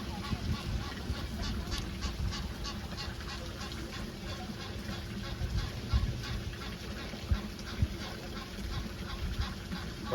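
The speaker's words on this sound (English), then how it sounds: "I swear this duck is gonna drive me crazy" A duck quacks repeatedly outdoors, steady raspy calls running throughout at moderate distance over constant low rumbling background noise, with a few sharper knocks near the end.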